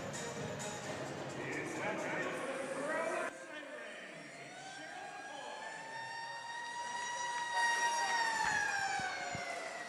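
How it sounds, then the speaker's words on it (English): A hockey arena siren in Port Huron wails with rising and sliding tones, loud and sustained, while an announcer speaks over it. "As I get the siren going here in Port Huron, that means it's just about hockey time"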